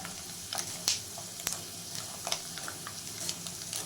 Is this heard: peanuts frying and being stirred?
yes